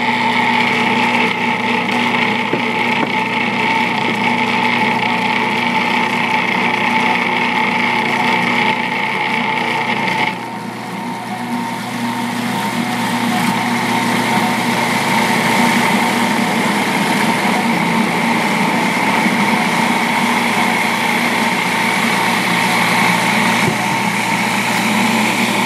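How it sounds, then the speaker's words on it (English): A food processor spins flour with wet ingredients into dough, a steady whirring motor hum held for the whole stretch with a brief shift in tone partway, close and fairly loud. "I already have my flour in my food processor, and apparently you're supposed to add the wet to the dry and have it constantly spinning."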